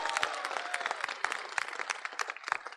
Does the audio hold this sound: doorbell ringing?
no